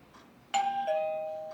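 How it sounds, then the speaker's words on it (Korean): A home doorbell rings at night with a single clear ding-dong chime, the second tone lingering and slowly fading in a quiet room. "그때 난데없이 초인종이 울리고"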